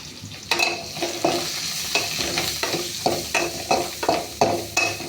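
Curry leaves, onion, green chillies, turmeric and a cinnamon stick sizzle as they temper in hot oil, with a steady close hiss broken by repeated sharp scrapes and clatters of a spoon stirring the pan.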